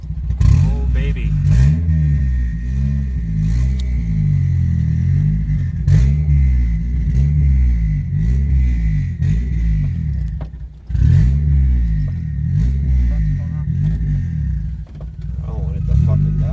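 Boosted Honda Civic EG engine idling roughly and being revved in repeated rising and falling pulls, close and loud, with a brief dip before it picks back up, while people talk near the car.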